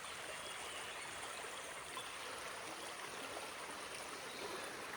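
A river swollen with water flows in a Konkan village with coconut groves, heard as a faint, even rush of moving water. It stays constant and unbroken throughout with no voices.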